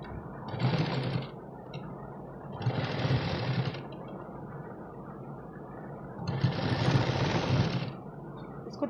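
A sewing machine stitches a katori-style blouse in three short runs of steady, close, loud mechanical whirring, separated by quieter gaps where the motor idles or stops.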